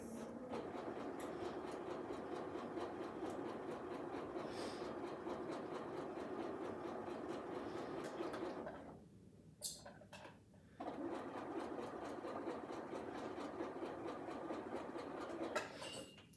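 A sewing machine runs steadily while stitching a pillow cover, a continuous rapid whirring hum that stops briefly for about two seconds near the middle, then resumes at the same pace.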